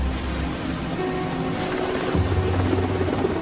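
Steady rotor and engine drone of a Sea King helicopter, loud and continuous, with a low hum that shifts slightly partway through.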